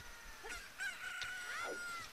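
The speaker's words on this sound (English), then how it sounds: "A chicken hatched from the egg that was in my pocket." A rooster's crowing and clucking from the game The Legend of Zelda: Ocarina of Time, a short series of bright calls with rising and falling tones, fairly faint and heard alone.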